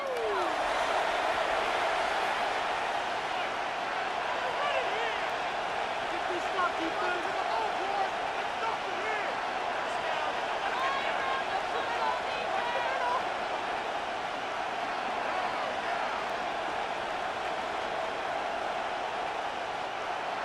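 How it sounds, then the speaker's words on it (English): Crowd noise from a simulated NFL football game between the Houston Texans and Jacksonville Jaguars, a steady roar of the stadium throughout, with a commentator talking over it. "The crowd making their presence felt."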